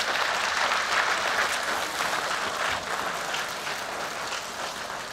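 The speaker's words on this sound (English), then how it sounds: "a round of applause for Steve" An audience applauds Steve Crocker after a talk on the ARPANET at a conference, dense steady clapping from a sizeable crowd with no voices, easing slightly in the second half.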